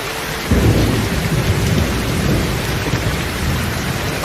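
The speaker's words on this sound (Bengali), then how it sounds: "হঠাৎ করে মুষলধারে বৃষ্টি শুরু" Heavy cartoon rain pours steadily while a deep roll of thunder breaks in after a moment and rumbles on, loud and close, with no voices.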